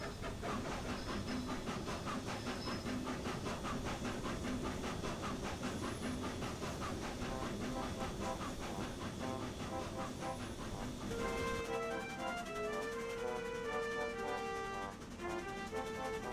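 Steam locomotive No. 4 runs along a Nevada narrow gauge line, a continuous hissing, rumbling rail sound that carries throughout, with a tonal melody rising over it near the end.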